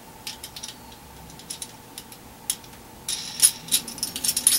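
Wing nuts hand-tightened on a U-bolt bracket with lock washers for an antenna, a series of small metallic clicks and scrapes that grow busier and louder near the end, close up.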